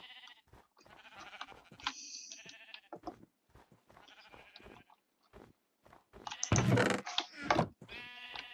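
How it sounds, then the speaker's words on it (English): Sheep in a dwarven kingdom video game bleat in several short, wavering calls, one louder and closer near the end, set between stretches of other game sounds and a voice. "they have a lot of sheep around here"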